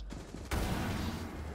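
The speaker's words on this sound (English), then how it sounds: "He's trying to shoot me through the wall." Muffled gunfire punching through a wall in Rainbow Six Siege, a sudden loud burst half a second in that carries on as dense, sustained shooting to the end.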